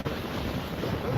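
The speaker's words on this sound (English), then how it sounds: "Look at those waves." Ocean waves crashing during a storm, a continuous loud roar of surf mixed with heavy wind buffeting the microphone, with no voices.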